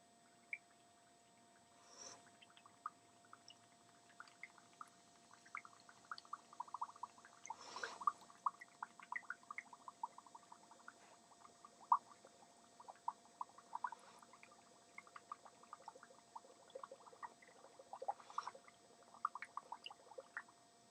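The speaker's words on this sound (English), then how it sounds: "the object is to blow bubbles in the water continuously" Quiet bursts of small bubbling and gurgling as air is blown into water through a coffee stirrer, uneven and close, with a faint steady hum behind; no talking.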